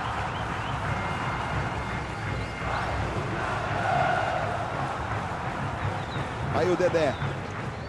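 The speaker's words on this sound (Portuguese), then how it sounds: "animada a torcida do Vasco" Vasco football supporters cheer and chant in the stadium during a Campeonato Carioca match against Olaria, a steady distant crowd roar under close commentary, swelling briefly near the end.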